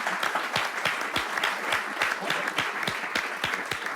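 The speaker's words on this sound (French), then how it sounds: "on peut l'applaudir" Applause from an audience welcoming a guest onto the stage at a live show, with brisk, fairly close claps, sharp individual hits standing out over a steady clatter.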